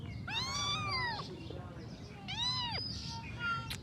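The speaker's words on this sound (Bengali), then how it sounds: "ম্যাও ম্যাও" A cat meows close by, two drawn-out, rising-and-falling cries separated by a short pause, followed by a faint third call over a soft background hiss.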